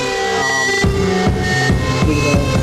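Harsh, intense distortion swells within a music mix, thick gritty noise pulsing in repeated surges over a sustained tonal bed, loud and continuous with no talking.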